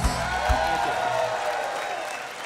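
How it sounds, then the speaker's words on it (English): Audience applause fills a live country music show as a guest performer is welcomed, dense and steady clapping with a few stronger thumps at the start. "How about a nice round of applause for my good buddy"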